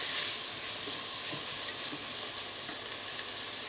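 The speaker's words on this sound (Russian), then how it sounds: "Лук и морковь перемешиваем и ждем, когда они у нас полностью обжарятся." Onions and carrots fry in a multicooker, giving a steady close sizzle and hiss for a few seconds.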